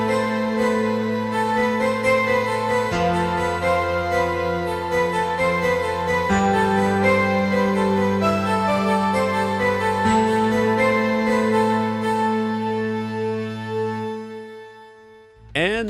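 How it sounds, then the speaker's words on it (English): A synth melody plays over sustained low bass notes that change every few seconds, a busy layered musical passage that fades out near the end before a brief sound at the close. "Next up, I have a melody right here."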